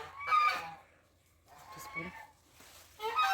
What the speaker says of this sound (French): Là, c'est les vieilles poules, canards et les oies.